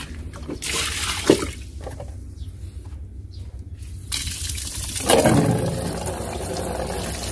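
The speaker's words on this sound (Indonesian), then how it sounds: "Kita ganti dulu airnya." Water sloshes, drips and briefly gushes while a baby monitor lizard's soaking box is emptied and refilled, with a louder splash near the end and steady trickling throughout.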